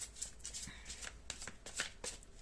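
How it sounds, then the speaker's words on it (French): Tarot deck shuffled by hand before a card is drawn, quick close riffles and soft papery flicks in a short quiet burst, no voices. "Je tirerai bien notre carte."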